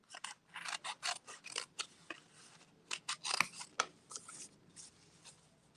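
Sharp scissors snip through a quilting fabric panel in quick bursts of short crisp cuts, close and fairly quiet, with pauses between runs of strokes.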